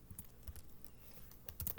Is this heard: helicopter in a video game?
no